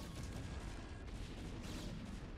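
Dense, rumbling explosions and booms from siege tanks firing on probes in StarCraft: Brood War, forming a continuous loud barrage of game battle noise with no clear gaps.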